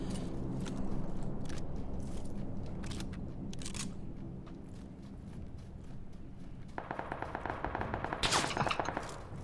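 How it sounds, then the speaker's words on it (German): Repeated gunfire from PUBG, the battle-royale shooter, with sustained bursts of shots under a steady rumbling background and a louder, sharper volley of rapid shots near the end. "Auf mich wird geschossen."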